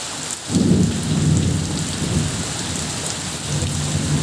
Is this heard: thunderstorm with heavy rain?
yes